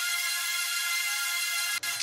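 Bright, heavily distorted high synth chords washed in reverb, a sustained harsh wall of sound that cuts out briefly near the end before returning.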